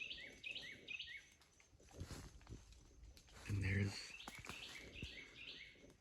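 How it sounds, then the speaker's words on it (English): Birds calling in a forest during the day, with an owl's low hoot breaking in partway through. Chirps and tweets come from moderately far off under a nearby voice and some rustling movement. "I figured I would record those cool bird sounds"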